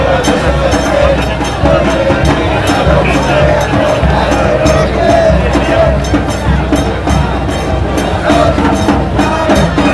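A rugby crowd at a San Juan match roars steadily as a player takes the field, with dense, continuous cheering and babble of many voices throughout.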